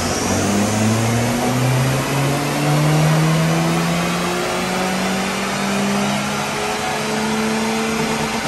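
A Mitsubishi Colt Ralliart engine revs steadily upward under load on a dyno power run, its rising tone loud and continuous with no talk over it.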